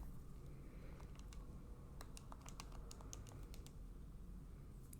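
Keys tapped on a calculator while working percent composition figures, a quick irregular run of light plastic clicks, faint and close over a low room hum, with no talking.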